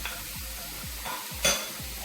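Zucchini, yellow squash and peppers sizzle steadily in a hot pan, with repeated scraping stir strokes roughly every half second and a brief louder clatter midway; no talking.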